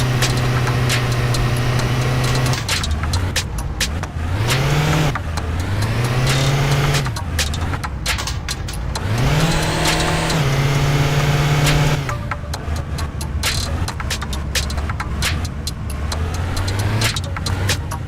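A car engine in My Winter Car is held at full throttle, repeatedly surging up, holding a high droning pitch, then cutting out and dropping back, over about eighteen seconds of loud, close revving.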